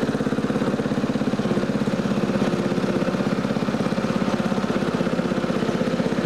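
An old barn-find tractor mower engine runs steadily while the machine drives in first gear, giving a loud, close, even chugging with a fast regular pulse and no talk over it.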